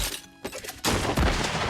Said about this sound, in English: she throws a bunch of bullets in the air and shoots them all